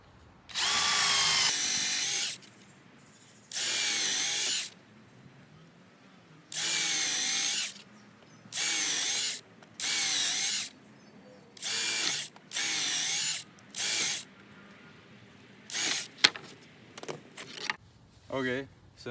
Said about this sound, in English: now we've removed some material with the drill bit